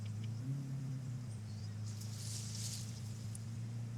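Lamborghini SVJ supercar in the racing game Forza Horizon 5, a steady low engine drone idling and creeping along with a slight rev near the start, with faint hissy ambience above.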